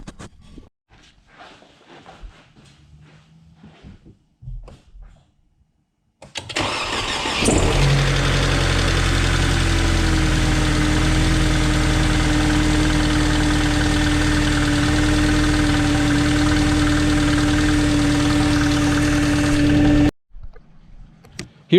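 A Mercedes C-Class engine with new spark plugs and ignition coils cranks and fires up, then settles into a loud, steady idle close by for over ten seconds before cutting off abruptly.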